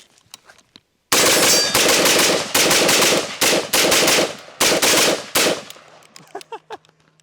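An AR-style paintball gun fitted with a Shocker trigger fires rapid bursts, loud and close, with brief pauses between strings of shots, then stops and leaves quieter clicks and handling noises.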